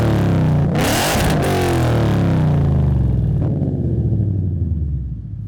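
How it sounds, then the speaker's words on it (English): Ford Mustang S550 fitted with a 3-inch catback exhaust revs hard and loud, a deep rumbling roar climbing then settling into a throaty idle burble that fades slightly at the end. "go into our 3-inch catback. This will minimize any back pressure, and boy, does it sound awesome"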